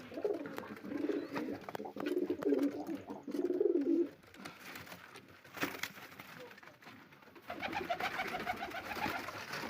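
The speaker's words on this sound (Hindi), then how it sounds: "देख सकते हैं आप हमारे कबूतर कुछ इस तरफ हैं।" Pigeons coo in low, throaty bursts nearby, several rounds in a row, with background bird chatter and faint voices.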